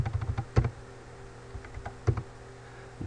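Typing on a computer keyboard while text goes into a text editor: scattered keystrokes with a few sharper, louder clacks. Close and fairly quiet, with no voices.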